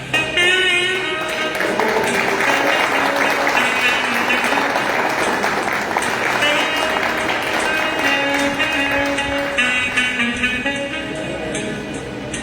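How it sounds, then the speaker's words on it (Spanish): An audience applauds at a book launch event in Mompox, Colombia. The loud clapping runs steadily under music playing throughout. "de nuevo un fuerte aplauso para este bonito video y muy emotivo"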